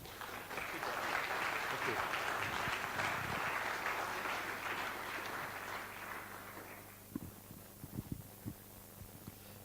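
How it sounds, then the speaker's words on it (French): An audience at a lecture on Greek astronomy and the Antikythera mechanism applauds to welcome a speaker, a steady round of clapping over a low hum that dies away into a few scattered claps and faint voices. "Merci de l'accueillir avec vos applaudissements."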